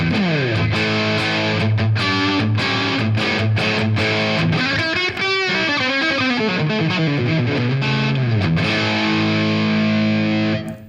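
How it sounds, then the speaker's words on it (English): A PRS CE24 electric guitar on the bridge pickup with overdriven, gritty tone plays a run of chords and bending single notes, loud and sustained, ending with a short decay. "we'll start with the bridge pickup, and that sounds like this with some overdrive"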